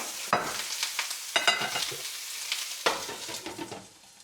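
Cabbage dumplings fry in a hot stainless steel pan, giving a steady close sizzle broken by a few louder bursts of crackle as they settle.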